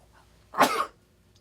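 A single short, explosive sneeze from a person, fairly close and loud, bursting out of an otherwise quiet room.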